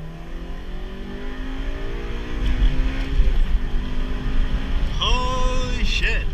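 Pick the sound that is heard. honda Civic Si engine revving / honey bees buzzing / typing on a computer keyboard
honda Civic Si engine revving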